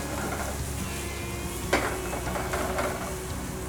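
Onions sizzle in a little hot oil for an okra bhaji, a moderate, constant frying hiss with a single sharp clink of a utensil partway through.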